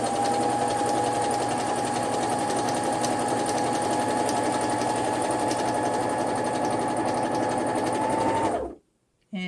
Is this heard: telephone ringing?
no